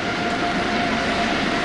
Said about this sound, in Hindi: सी किंग हेलीकॉप्टर्स की फॉर्मेशन